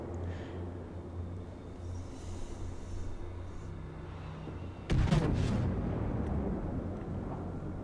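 Main guns of a warship firing in a naval combat video game at a Kurfurst battleship, a sudden loud booming blast with rumbling decay after a low steady background hum.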